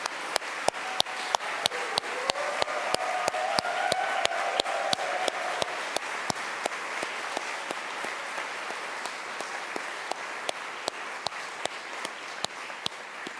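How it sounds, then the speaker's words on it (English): A convocation audience gives a sustained round of applause for standing international students, an even wash of many hands with sharp, regular louder claps spaced through it. "would you stand up and let us give you a round of applause to express our appreciation"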